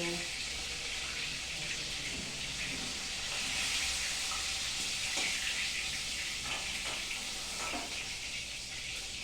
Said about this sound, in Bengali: আমার মাছ হচ্ছে, ভাজা হচ্ছে, টকবক করে ফুটছে, মাছ ভীষণ ফুটছে